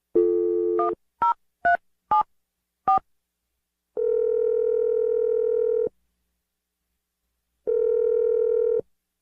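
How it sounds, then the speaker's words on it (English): A telephone handset gives a quick burst of DTMF keypad tones as a number is dialled, then two long ringback tones separated by silence, all clear and close with no talking. "I'm going to dial the number right now."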